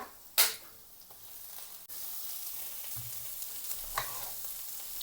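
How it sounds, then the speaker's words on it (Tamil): Tomatoes sauté in a pan for a simple home lunch dish, giving a soft, steady sizzle with faint stirring clicks and a sharp scrape near the start, quiet throughout with no talking. "இப்போ இந்த தக்காளியும் ஓரளவு வதங்கி விரட்டும் அந்தளவுக்கு வதக்கி விட்டு கொள்ளுவோம்"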